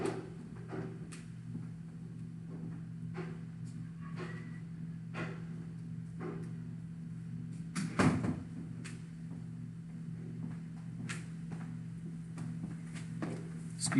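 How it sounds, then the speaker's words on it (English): Indoor door pushed shut with a single thud partway through, over a steady low electrical hum and scattered faint knocks and clicks, no speech. "I was shutting the door."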